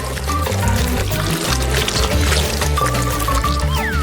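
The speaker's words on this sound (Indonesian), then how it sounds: "kita bisa menuang coklatnya ke dalam cangkir" Melted hot chocolate is poured into a cup in a continuous, close, wet stream that keeps a steady liquid rush for several seconds.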